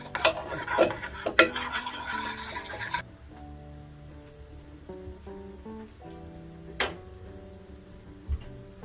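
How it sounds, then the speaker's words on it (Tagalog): Spoon stirring a flour mixture cooking in a pan: quick clattery scraping and clinks at first, then a quieter stretch with a few sharp taps against the pan, close up and with no voices. "mix it until the flour is cooked"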